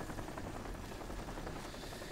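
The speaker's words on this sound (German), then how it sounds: "Und ich höre schon wieder ein Heli." A helicopter in Crysis gives off a continuous, fairly faint broadband rotor drone that holds steady throughout, with no voices.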